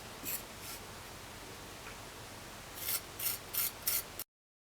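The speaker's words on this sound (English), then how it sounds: "I'm going to score the bottom." A serrated rib scoring the bottom of a clay smartphone stand: faint scratchy rasping strokes, one or two early and a quick run of four or five near the end, close and quiet against a soft background.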